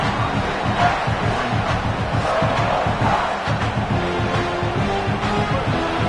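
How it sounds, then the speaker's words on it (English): A large stadium crowd roars continuously, a dense wall of cheering and shouting that never lets up. "Listen to this crowd just shaking the girders of this place, trying to help their defense."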